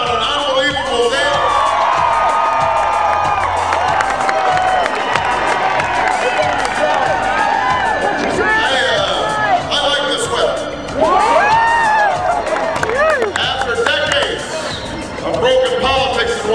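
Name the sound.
large political rally crowd cheering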